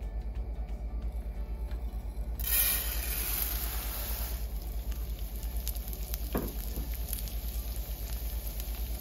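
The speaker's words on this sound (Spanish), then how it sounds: "Ya el aceite está caliente, es hora de agregarle el arroz" Rice poured into hot oil in a pan for fried rice, giving a burst of loud hissing sizzle that settles into a softer, steady crackle over a low background hum, with a brief scrape near the end and no talking.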